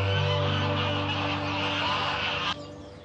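Ducks in the Monforte gardens of Valencia quack and honk loudly and continuously nearby, a dense overlapping chorus that drops away abruptly near the end.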